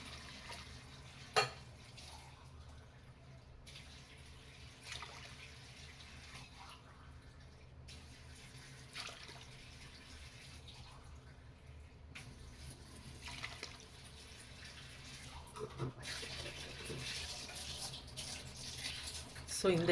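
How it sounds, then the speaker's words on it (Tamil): Water poured into a pot of soaked seeraga samba rice, a running trickle and splash in several bursts, moderately close, while a person talks over it. "ஜீரக சம்பா அரிசி 1:2 ரேஷியோவில் நான் தண்ணி ஊற்ற போகிறேன்."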